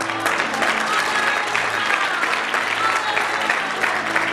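Loud, sustained applause fills a church hall, a dense and even wash of many hands clapping close by with no break, and faint voices mixed underneath.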